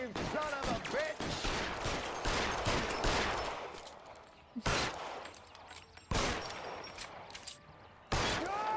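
Gunfire in the video game L.A. Noire comes in dense early volleys of close, sharp shots, then thins into separate loud bursts spaced apart over a steady background.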